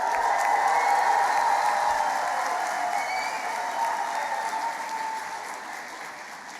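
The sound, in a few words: audience clapping, whooping and cheering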